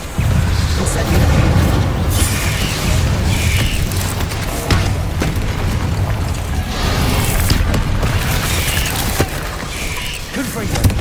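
An Incendio fire spell cast in Hogwarts Legacy, giving a loud, sustained roaring whoosh of flame with booming bursts, dense and continuous over the game's background sound.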